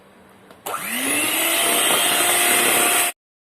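An electric mixer beats mango ice cream batter with added mango purée, starting abruptly with a rising whine that settles into a steady, loud, continuous high-pitched motor drone for a few seconds before cutting off sharply.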